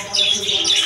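Caged birds inside a bird-market shop in Pabna twitter in a dense, continuous stream of high, bright chirps, close and fairly loud, with no talk.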